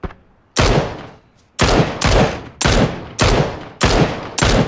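Heavy gunfire in the battle-royale game PUBG: six loud, evenly spaced bursts of shots, each cutting in sharply and decaying before the next, with no talk over them.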